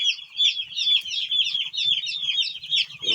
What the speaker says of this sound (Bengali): কেমন করে মুরগিগুলো হাঁপাচ্ছে